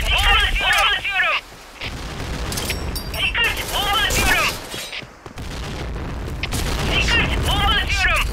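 Grenade blasts in the shooter game Point Blank, loud booming explosions with crackling gunfire on a battlefield map, repeated over several seconds while radio-style voices talk through the din.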